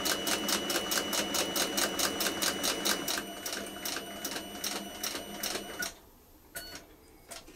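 A sewing machine stitches a leather notebook cover with a steady, even needle rhythm of loud, close clacks for about six seconds. It then stops, leaving a couple of faint clicks.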